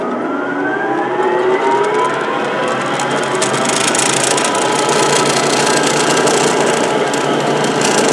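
An old grinder with a big 2-inch wheel runs continuously, producing a loud, steady whirring whine with a gritty rattle from its loose cover and the slightly out-of-balance wheel.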